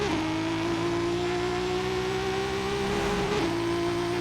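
A tuned 1270 hp 2JZ-engined 2.0 GT Toyota Supra MK3 accelerates hard in a roll race in Forza Horizon 5, a loud sustained engine drone climbing steadily in pitch with one brief dip like a gear change.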